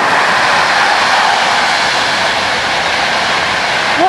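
A continuous broad rumbling roar holds steady throughout, like a train rolling past nearby and entering a tunnel, with no speech.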